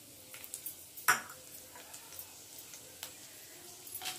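Chopped garlic cloves dropped into hot oil in a pan, giving a soft low sizzle punctuated by a sharp clatter of a utensil and scattered small clicks, fairly quiet and close.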